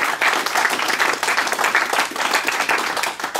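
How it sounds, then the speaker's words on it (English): A big round of applause from diners at an auction dinner, loud, dense and steady for a few seconds before easing off. "with a big round of applause."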